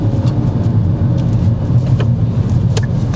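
Steady low engine rumble and road noise from inside a car during a driving lesson near a roundabout, close and continuous with a few faint clicks, and no talk over it.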